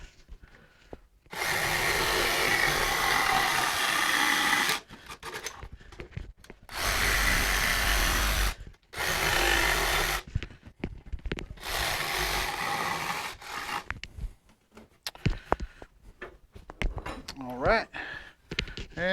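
Power tool cutting a hole through wood for a duck nesting box, several long loud whining bursts separated by brief pauses, followed by quieter clattering handling noises close by.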